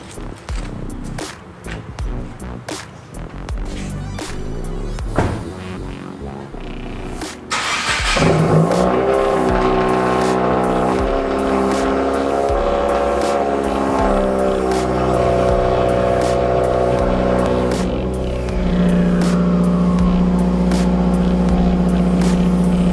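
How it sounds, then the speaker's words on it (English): A 2019 Subaru WRX 2.0 cold-starts: faint clicks, then a sudden loud catch at about eight seconds into a steady, high-idling engine drone that holds and rises slightly near the end, with no talk. "Let's do the cold start."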